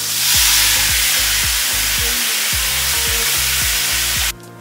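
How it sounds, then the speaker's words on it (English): Beef and garlic sizzle loudly in smoky-hot oil over high heat in a wok for Vietnamese shaking beef, a constant hiss cut by repeated rhythmic thumps and scrapes of the pan, then a sudden drop at the end. "Once it gets smoky, add the garlic and then the meat."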